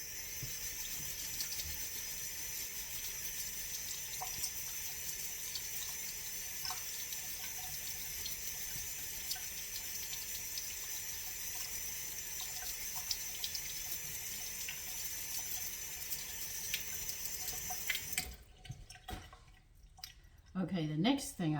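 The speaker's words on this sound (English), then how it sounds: "I'm going to take a scrub brush and I'm going to scrub it to get all the dirt off." Jerusalem artichoke scrubbed with a brush under a running kitchen tap: a steady, close rush of water with faint brushing and drips for most of the clip, then the flow stops and a voice speaks.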